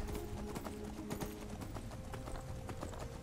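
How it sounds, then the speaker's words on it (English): Horse hooves clip-clop steadily in the Skyrim video game as a summoned horse trots up, a quick rhythmic run of thuds heard faintly under game ambience. "Can I whistle for my horse on this island?"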